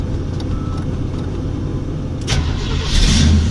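A truck engine cranks and catches after the throttle is pumped a couple of times, a steady close idle rumble swelling louder near the end.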